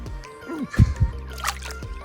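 Small caught fish released back into the water from a fishing trip, a brief close splash with light dribbling, heard amid a voice talking.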